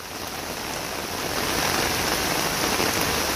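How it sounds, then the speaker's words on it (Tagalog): Heavy rain pours in a steady, dense hiss with no pauses, loud and close, drowning out any other sound. "Ang lakas ng ulan."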